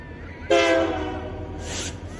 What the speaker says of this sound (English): We have freight trains.